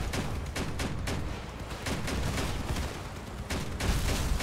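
Rapid bursts of gunfire from vehicle-mounted guns in the video game Crossout, dense rattling volleys continuing steadily at a fairly quiet level without speech.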